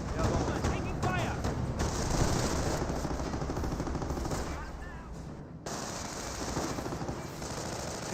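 Continuous machine-gun and rifle fire in the World War II strategy game Company of Heroes, dense rapid bursts overlapping throughout with a brief dip mid-way, loud and close, with a voice talking over the battle.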